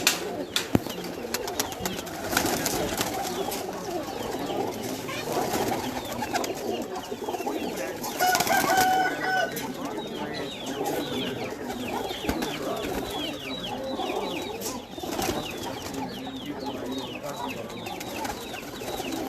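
Magar pigeons coo in low, rolling calls on a farm near Islamabad, with chickens clucking among them. The bird sounds continue steadily over a busy, moderately quiet background.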